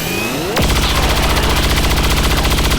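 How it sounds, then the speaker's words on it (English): Rapid automatic gunfire in XCOM aimed at an Andromedon, a loud sustained burst of repeated shots starting abruptly after a short lead-in and running without pause to the end. "Black Widow is gonna kick things off. He's gonna take a shot at the, yeah, he's gonna take a shot at the Andromedon"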